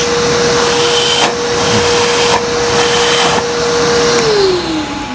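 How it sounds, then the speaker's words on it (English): A loud Karcher IVM 40/24-2 H ACD industrial vacuum runs continuously with a steady high-pitched whine, its tone dropping briefly near the end as the load changes. "when the vacuum's running, just cover the gauge."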